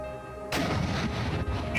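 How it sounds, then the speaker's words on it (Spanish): A Panzerfaust rocket strikes the right side of a tank in a sudden loud blast that opens into a sustained roaring, crackling rumble, preceded by a quiet low hum. "La explosión fue justamente en la parte derecha del tanque."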